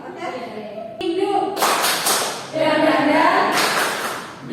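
Hand clapping in a classroom ice-breaking clap game led by a teacher, with several bursts of claps in a rhythmic pattern mixed with voices and children's chatter.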